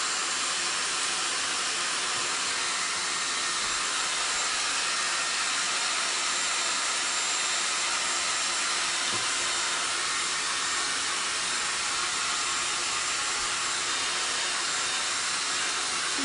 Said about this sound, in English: Just drying up this section of our project.